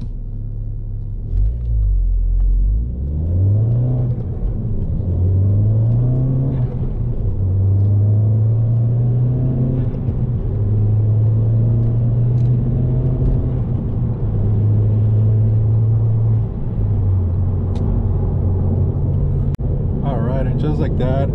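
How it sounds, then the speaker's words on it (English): A modified Ford Focus ST engine pulling and revving, a deep rumbling drone rising and settling in pitch over and over through the gears, heard from inside the car with someone talking over it. "Or I can step on it a little bit, let go of it, and there you go."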